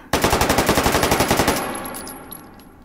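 A PP-19 Bison submachine gun fires a rapid burst of about fifteen evenly spaced shots in the virtual range game Hot Dogs, Horseshoes and Hand Grenades. The burst is loud and close, followed by a fading echo and light mechanical clicks.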